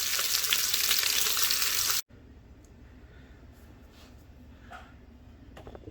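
Beef oxtail sears in an Instant Pot with a loud, hissing sizzle that cuts off abruptly partway through, leaving a low background with faint scattered crackles and taps.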